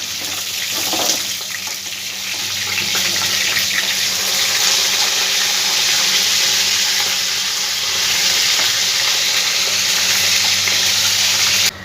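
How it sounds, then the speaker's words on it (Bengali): Rui fish fries in hot oil in a pan, producing a loud, continuous sizzle and bubbling hiss that holds steady with no talking. "বাকি মাছগুলো আমি একইভাবে ভেজে নেব"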